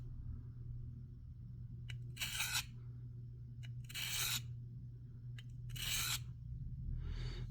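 Serrations of a CRKT knife blade being sharpened, three or four short, bright rasping strokes spaced about two seconds apart, close and fairly quiet over a steady low hum.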